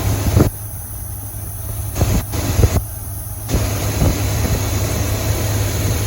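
A Buick engine in a C20 Suburban with a Quadrajet carburetor idles at a slightly lowered speed, a steady low hum with a constant hiss, broken by a few brief knocks and clicks, heard alone without talk.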